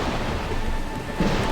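Steady rain with low rolling thunder in a zombie-filled haunted city level of the video game Painkiller: Resurrection, a continuous wash of downpour with a heavier rumble swelling near the end.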